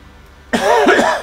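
A single close, loud cough from a man, breaking out sharply after quiet and ringing on with a rough, voiced tail.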